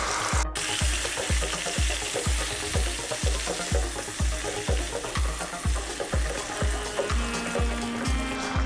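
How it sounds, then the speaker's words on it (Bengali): Tomato puree sizzles in a pan for a pabda fish gravy, giving a constant bright hiss over a regular series of low bubbling thumps close by, with no voices. "টমেটো পিউরিটা ঢেলে দিচ্ছি। এবার মাছের গ্রেভিটা আমি বানিয়ে নিচ্ছি।"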